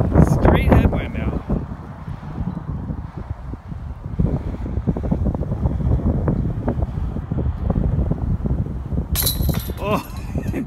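Straight headwind while sailing, a steady loud rushing wind buffeting the microphone throughout, close and gusty, with a voice briefly heard over it.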